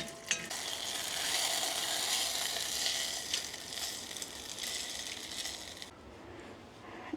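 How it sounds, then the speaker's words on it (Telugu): Tempering spices sizzling in a pan, a loud continuous frying hiss close up that starts abruptly and cuts off near the end, with no talking. "సో ఇప్పుడు ఇదే గిన్నెలో పోపు పెట్టేస్తున్నా."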